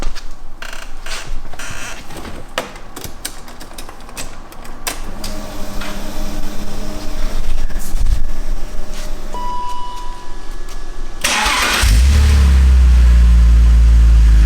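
A car fitted with a Magnaflow catback exhaust starts up and revs, the engine note rising and falling steadily at moderate loudness, then a loud low rumble swells near the end.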